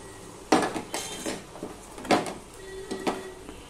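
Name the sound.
stirring sautéed vegetables in a pan with a spatula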